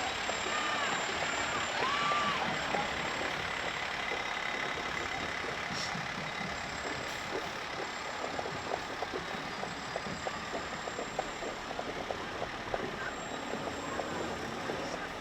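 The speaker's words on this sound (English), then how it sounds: "Again, more Newark Fire Department hazmat operation trucks." Newark Fire Department hazmat operation trucks roll by in a St. Patrick's Day street parade, a steady engine rumble with reversing-style beeps and crowd noise throughout.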